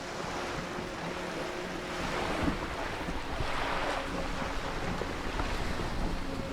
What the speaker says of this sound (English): leave only the still lifes, the blissful distant wash of waves